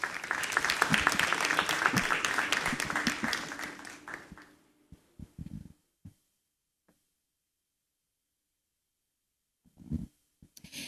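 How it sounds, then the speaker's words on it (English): Applause from an awards ceremony audience welcoming a manager on stage, loud and dense for about four seconds, then fading into a few scattered claps and near silence, with brief thumps near the end. "Let's welcome him with a big round of applause."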